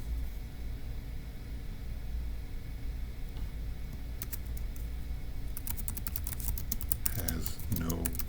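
Keys on a computer keyboard clatter in a quick burst near the end, rising out of faint room noise.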